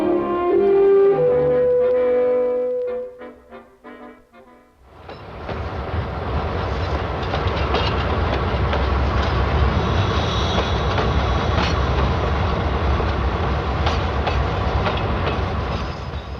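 Freight train 406 rolls through a rail yard with a loud, steady rumble and clatter of wheels over track. Before that comes a brief stretch of music and then a short dip.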